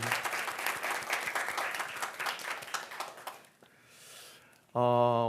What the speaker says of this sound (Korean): 우리 주님께 우리가 할 수 있는 최고의 영광과 감사의 박수 올려드립시다